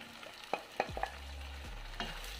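Chicken mechado in tomato sauce and marinade being stirred in a pot, a few sharp spoon clinks and scrapes over a low simmering bubble, brief and quiet with no talking.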